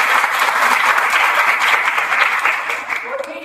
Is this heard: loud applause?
yes